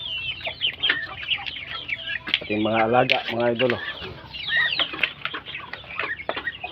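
Chickens cluck and a rooster-like call sounds in bursts on a small farm, close up, with high chirpy bird calls throughout and a person talking briefly.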